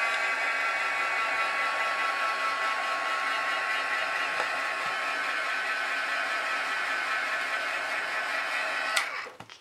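A handheld heat tool blows a steady, fairly faint whirring hum while it heat-sets metallic gold ink on a coloured stamped-metal background, running continuously and ending with a brief click, no talking.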